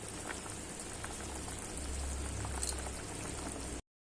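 A pot of curry with potatoes bubbling at a steady boil, a dense, continuous simmering noise with small pops and splutters, close and moderately loud throughout, with no voices.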